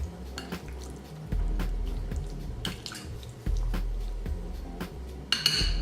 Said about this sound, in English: I'm just going to stir this together, making sure all the lamb is covered